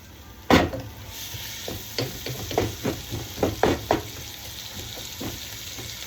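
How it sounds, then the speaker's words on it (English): Onions saute in a pan, with a steady low sizzle under a series of scraping, stirring knocks from a utensil and one sharp clatter near the start. No one speaks. "You let the onions saute."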